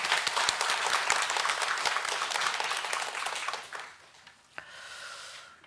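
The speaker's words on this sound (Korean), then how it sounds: "하나님께 영광의 박수 올려드리겠습니다" Applause from a church congregation at a Sunday morning worship service: dense, sustained clapping from many hands that fades out around the four-second mark, followed by a faint brief knock and quiet room tone.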